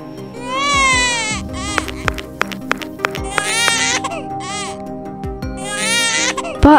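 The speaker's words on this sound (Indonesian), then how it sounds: "Ada suara bayi nangis." An infant cries at night in bushes, loud wailing bursts with gasping pauses repeating close by, accompanied by sharp intermittent clicks and knocks.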